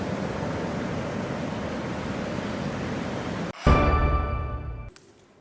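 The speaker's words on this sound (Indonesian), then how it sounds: "Pantai yang berhadapan langsung dengan Samudra Hindia tersebut berombak besar dengan gulungan ombak hingga puluhan meter." Big waves break on a beach on the West Pesisir coast of Lampung, facing the Indian Ocean, as a steady broadband wash for about three and a half seconds before it cuts off abruptly into a different, tonal humming sound.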